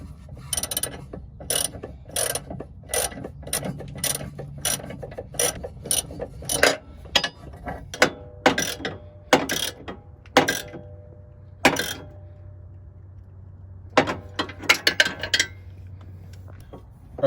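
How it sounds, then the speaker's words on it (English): A hand ratchet tightening lower control arm bolts on a 2001–2005 Honda Civic, sharp clicking strokes in quick irregular runs with short pauses, close and clear with no talk. "you'll be able to install the bolts, and make sure you tighten it at the according torque spec"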